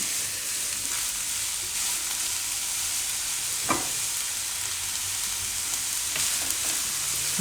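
Chopped onions with a little salt sizzle steadily in a hot pan while cooking for wheat-flour noodles with spinach. The frying is continuous and close, with an occasional stirring scrape cutting through.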